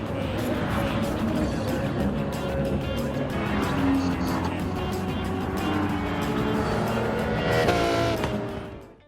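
A racing car engine from a 1997 BMW E36 M3 in a racing video game roars steadily and revs up near the end, with tire noise underneath, before cutting out abruptly.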